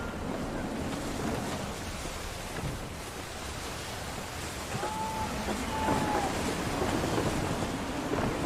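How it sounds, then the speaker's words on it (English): Gusty wind over open sea in Assassin's Creed 3 blows as a steady, broad rushing roar mixed with surf and waves against a sailing vessel, continuous throughout with no pauses. "Wind looks to be shifting. Stay alert, Connor. Gusty winds can be difficult to manage."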